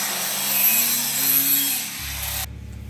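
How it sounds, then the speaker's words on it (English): A grinder with a flap wheel faces off the ends of exhaust pipes during a rear bumper install on a Ram TRX, a steady loud abrasive whine that drops in pitch before cutting off. "you'll take your flapper wheel and just kind of deck off the face of them"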